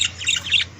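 Pet canaries chirp and squawk in a brief, bright burst of busy, overlapping calls close to the microphone, with a steady low hum underneath.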